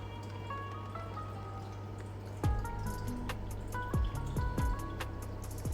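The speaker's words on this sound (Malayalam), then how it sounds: "ഇതൊന്ന് നല്ലോണം നമുക്കൊന്ന് സ്പൂൺ കൊണ്ട് മിക്സാക്കി എടുക്കണം" Spoon stirring prawn donut batter mixed with mozzarella cheese, a few soft wet squelches and clicks spread out over a steady background of quiet music.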